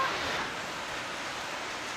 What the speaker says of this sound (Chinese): 那个瀑布是不是好漂亮的？